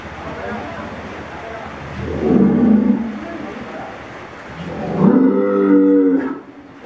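Cattle in a barn at night after rain, with two deep, drawn-out moos a few seconds apart, fairly close, over a background of low rumble and someone talking.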